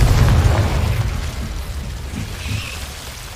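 A loud, roaring explosion from the Confringo fire spell in the video game Hogwarts Legacy, with a deep booming rumble up front that slowly fades over a few seconds.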